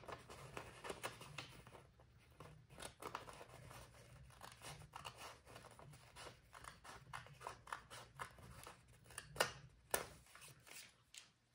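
Scissors cutting through paper for a Mario-themed Hobonichi Cousin planner spread, a run of close, crisp snips and slices repeating at an irregular pace, alone with no talk.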